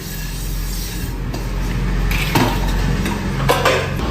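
Dishes, pots and pans being washed at a home sink, with steady running water and occasional clinks of utensils against each other, close by and without talk.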